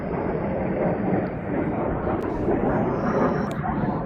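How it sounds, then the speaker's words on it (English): F-35 fighter jet passing overhead, heard outdoors on a mountain hike as a loud, broad, steady roar that fills the whole clip without clear rise or fall. "That's a good old F-35, I'm guessing by the sound."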